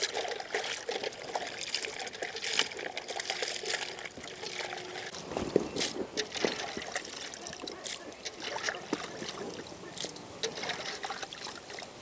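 Water is poured over snail meat as it is washed, making quiet, uneven trickling and splashing with small clinks and bursts of running water.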